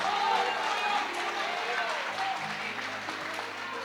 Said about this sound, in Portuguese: Dá uma salva de palmas e dá um glória a Deus aí, igreja.